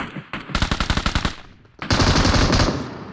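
Rapid bursts of automatic gunfire in a shooter video game, a short rattling volley followed by a brief lull and then a denser, louder sustained burst, with no talking.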